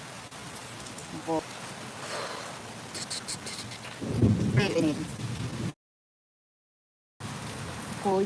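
Rain pours outdoors during a storm with a steady wash of noise and a heavy rumble partway through, and someone talks over it before a brief cut to silence.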